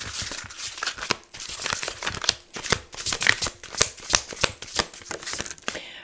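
Tarot cards riffled and shuffled by hand, a steady run of crisp papery flicks and slaps at close range, with no voices.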